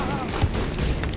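Gunfire in the video game Wolfenstein Youngblood, rapid dense shots and booms layered with an excited voice talking over the action.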